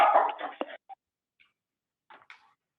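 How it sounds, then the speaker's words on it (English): A dog barks and whimpers in short bursts in the background of a remote city council meeting, a louder cluster first followed by a few faint, sparse yips. "my dog just started barking"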